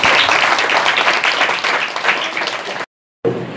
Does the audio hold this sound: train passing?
no